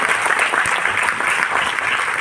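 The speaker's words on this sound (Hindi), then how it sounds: "तालियां नहीं बजेंगी।" A seminar audience gives loud, continuous applause, a dense wash of clapping close by that stays even from start to end.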